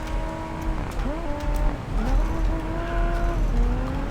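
The Lotus Exige's engine in the Racing Master video game whines steadily through shifting gear changes, its pitch climbing and dropping in rising sweeps over a continuous rumble, with brief tire noise mixed in.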